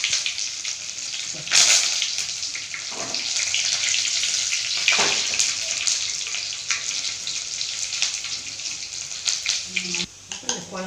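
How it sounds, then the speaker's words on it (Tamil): Fenugreek, onion and curry leaves fry in hot oil for a home-cooked lunch, giving a loud, continuous close sizzle with sharp spattering bursts near the start and middle. "வெந்தயம் போட்டு வெங்காயம் கருவேப்பிலை"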